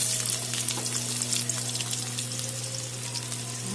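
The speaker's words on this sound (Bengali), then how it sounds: "এখন কুচানো পেঁয়াজ দিয়ে দিলাম" Chopped onions sizzle and fry steadily in a pan with whole garam masala, dried red chillies and cumin, a continuous close crackle with a low hum beneath and no voices.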